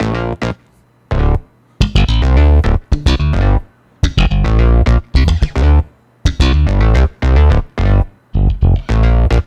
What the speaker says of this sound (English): we've got all those funk slaps